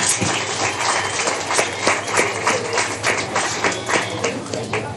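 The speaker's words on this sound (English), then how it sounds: "Let's give them all a round of applause." Steady applause from a crowd at a 4-H/FFA swine show, many hands clapping continuously at a moderate distance, with a murmur of voices underneath.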